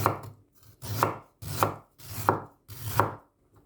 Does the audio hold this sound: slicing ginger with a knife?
yes